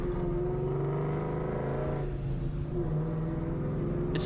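A Ford Mustang with a 4.6 V8 and BBK long tube headers idles and revs steadily, a loud, close, continuous rumbling exhaust note that holds level with a brief dip midway.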